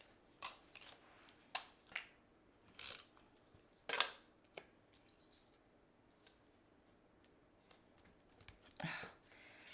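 A tape runner lays tape onto paper in a quiet crafting setting, making faint, sparse clicks and short rasping pulls scattered across the stretch, close by, with no talking.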